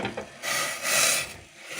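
Boiling water is poured over toasted bulgur, giving a hissing, steaming pour that swells twice in quick surges, close and fairly loud, with no talking.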